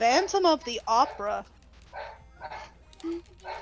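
A pet dog barks in a few short bursts in the background of a home, mixed with someone talking and some game sound.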